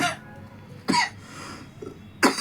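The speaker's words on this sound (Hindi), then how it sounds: "थोड़ा कुछ खांसी आने लगी।" A few sharp coughs in quick succession, close and abrupt, with quiet gaps between them.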